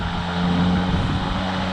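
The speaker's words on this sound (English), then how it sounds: "So start the engine on this one." An EGO battery-powered lawn mower motor runs at a steady, even whir close by, holding constant volume throughout with no voices.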